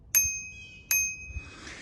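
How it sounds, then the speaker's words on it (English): A basic manual bell on a DYU C3 electric bike is flicked twice, giving two bright, ringing dings about three-quarters of a second apart that decay quickly, close and clear, followed by a faint rustle. "we have a very basic manual bell."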